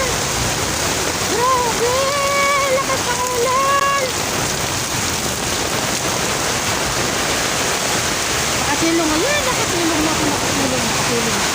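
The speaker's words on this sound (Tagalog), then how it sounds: "Ang lakas ng ulan! Grabe! Lakas ng ulan!" Heavy rain pours down in a steady, dense hiss during a storm in the Philippines, loud and continuous throughout, with a person speaking over it in the opening seconds.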